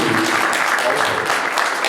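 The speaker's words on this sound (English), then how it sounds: "I just want to, again, give the huge round of applause to Hugh" Audience applause at a legal education event about wrongful convictions, a steady dense wash of clapping filling the whole moment at moderate loudness with some overlapping voices.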